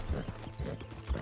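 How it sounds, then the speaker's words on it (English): Hooves clip-clop at a slow, loose walking rhythm as Arthur rides his horse in Red Dead Redemption 2, a few soft low thuds fairly close. "Riding around on a horse"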